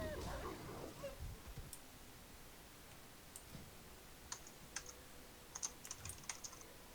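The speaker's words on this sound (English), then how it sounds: "My keyboard's not working anymore." A faulty computer keyboard is typed on in quiet, scattered clicks and taps, several short bursts of keystrokes spaced unevenly, fairly faint and close, with a brief voice at the start.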